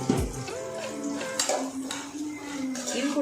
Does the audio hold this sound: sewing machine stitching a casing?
no